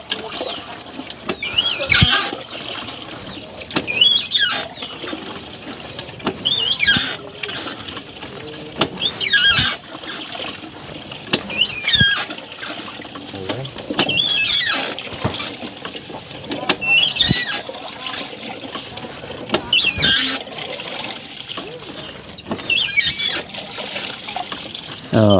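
Water gushes in repeated surges from a hand pump as it is worked, each stroke bringing a squeaking creak followed by a rush of splashing flow, with a steady rhythm of about one stroke every two to three seconds, close and fairly loud.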